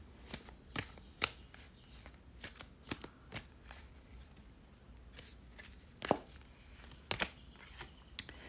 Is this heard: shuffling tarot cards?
yes